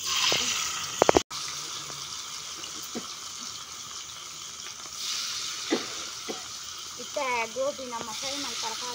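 Cauliflower pieces frying in oil for Gobi Manchurian at a village wood-fired cooking party, a fairly quiet continuous sizzle with a sharp clatter early on and voices talking over it.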